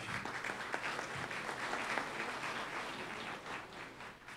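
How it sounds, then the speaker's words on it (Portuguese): Audience applause at a business breakfast event, steady dense clapping from a crowd filling the room, holding level and easing slightly at the end. "Vamos bater palmas?"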